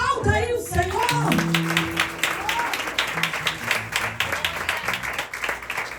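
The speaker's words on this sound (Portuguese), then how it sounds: "E aquele que crê, aplauda aí o Senhor." A church congregation claps for the Lord during an evening worship service, with a voice speaking at the start before steady, rhythmic clapping carries on under lingering music.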